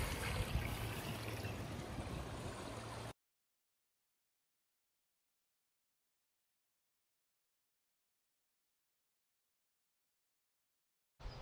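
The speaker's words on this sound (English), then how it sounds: "There's how much water is coming out with just the siphon running." Water drains out of a pond standpipe through a running siphon, making a close, steady rushing trickle for about three seconds. Then it cuts to silence, and a brief burst returns at the very end.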